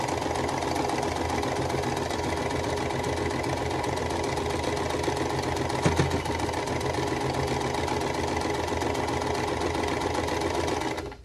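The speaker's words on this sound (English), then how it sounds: "Sewing machines are so cantankerous." A sewing machine runs steadily at speed while quilting, a loud continuous mechanical stitching hum with a rapid rhythmic needle beat, lasting nearly the whole time and stopping abruptly at the end.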